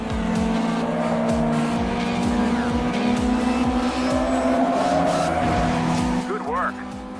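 Race cars roar and tires squeal in GT Racing 2 on an Android TV box, with a steady engine drone, skids and someone talking over the game throughout.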